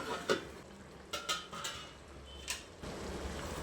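Chicken curry made with coconut milk is stirred in a pot: soft scraping and a faint simmering hiss, broken by a few sharp clinks of the utensil against the pot, fairly quiet and close.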